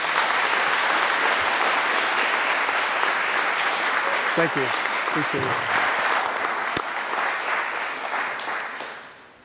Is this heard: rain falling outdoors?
no